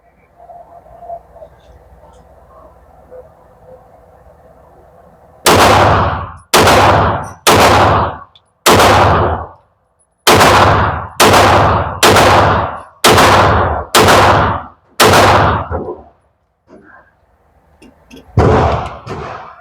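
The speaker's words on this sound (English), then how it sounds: "let's go 10 rounds with the Canik rival" A Canik Rival pistol fires about ten loud, sharp rounds at a competition shooting session. The shots come in an even, quick rhythm with short pauses, and a single louder crack follows after a brief quiet gap.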